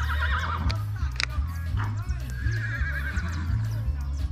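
A mare neighs in a stable while she is being treated with a drip, producing whinny calls with clip-clop hoof sounds over a steady low hum and background voices.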